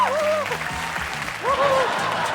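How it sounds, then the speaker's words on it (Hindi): A studio audience on an Indian reality show breaks into loud, sustained applause, with a host's voice carrying over the clapping throughout. "एक बार जोरदार तालियां"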